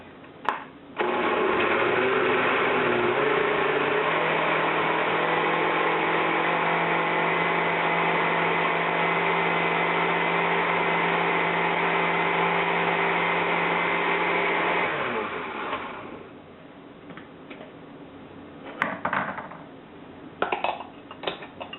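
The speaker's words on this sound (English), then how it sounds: "Lid on, and let's blend away." A blender with its lid on whirs steadily and loudly for about fourteen seconds as it purées ingredients, its motor pitch dropping slightly early on, then cuts off, leaving a few faint clicks and knocks.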